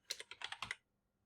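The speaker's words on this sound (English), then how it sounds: "then you have to type in the name Boulevard" Name typed on a computer keyboard, a quick burst of about eight crisp, close key clicks in under a second, followed by quiet.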